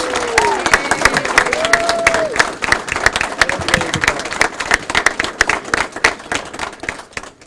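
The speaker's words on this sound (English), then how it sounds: "Let's give our champion, Majority Leader Crystal Peoples-Stokes, another great big round of applause" A crowd at a regional off-track betting press event gives a dense, sustained round of applause for Majority Leader Crystal Peoples-Stokes. Close, loud clapping holds steady for several seconds with a few scattered cheers.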